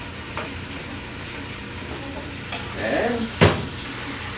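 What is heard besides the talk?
sauteing sweet basil for tomato sauce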